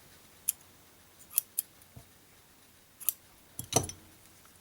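Scissors snip yarn in a handful of sharp, close metallic clicks spaced irregularly, with a quick double snip near the end in an otherwise quiet setting.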